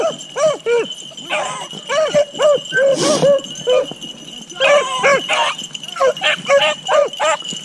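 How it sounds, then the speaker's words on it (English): Black and tan hound yipping and barking in a turnip patch, repeated close sharp yelps in uneven bursts, with people talking nearby. "It's your new dog."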